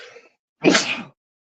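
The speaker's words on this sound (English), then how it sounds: "I gotta sneeze." A single sharp sneeze bursts out close by, preceded by a brief soft breath, then silence.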